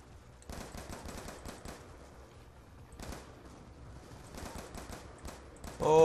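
Rapid automatic gunfire from the Black Ops 2 campaign, fired in several long bursts with short pauses between them, loud and close, ending in a sharper, louder blast.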